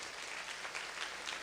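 An audience at a bishop's consecration ceremony in Uganda claps for the clergy, producing a continuous, evenly textured roar of many hands without pause.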